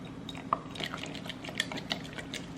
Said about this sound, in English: We're just gonna add a little bit more water.